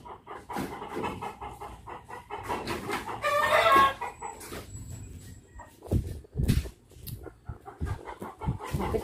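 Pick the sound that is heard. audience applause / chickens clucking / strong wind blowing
chickens clucking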